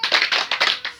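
A group of people clap the Indonesian 'tepuk salut' pattern together, sharp bursts of hand claps in an uneven rhythm, loud and close, with no talking over them.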